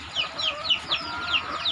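KUB (Kampung Unggul Balitnak) hens, about four months old and just starting to lay, cluck in quick repeated calls on a poultry farm, close and fairly clear over a low background murmur.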